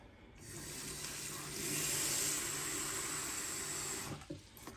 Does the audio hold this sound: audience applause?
no